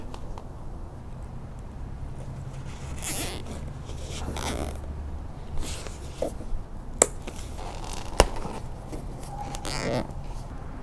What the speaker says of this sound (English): Zip tie through here, come through the hole I made, pull it tight, all the way down there.